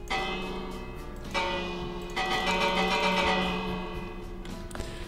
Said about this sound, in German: Guck mal, eine kleine Glocke haben wir hier. Die kann man hier irgendwo hinsetzen. Die macht auch ein Geräusch, warte.